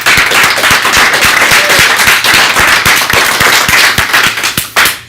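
Audience applause with sharp, dense individual claps ringing out close and steadily, loud and sustained throughout without any talking.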